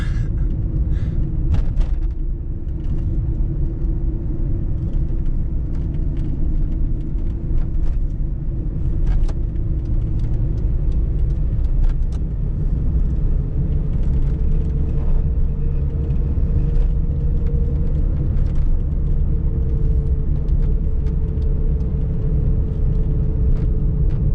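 Steady low engine rumble from inside a moving 1993 VW Polo with a 45 hp 1.0-litre engine, droning continuously with faint rattles and road noise, no voices.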